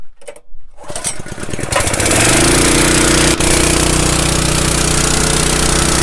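Gas-powered DMC SCUBA/paintball/PCP HPA compressor engine started with the choke on, several rough pulls and sputters before it catches and settles into a loud, steady, close running drone.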